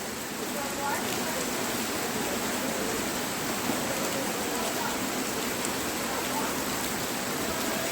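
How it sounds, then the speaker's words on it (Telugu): Heavy rain in Kondapalli, Vijayawada, pours down in a dense, unbroken hiss, loud and steady throughout with no pauses. "పొద్దునుంచి ఒక్కసారి కూడా ఆగకుండా పడతానే ఉంది వాన"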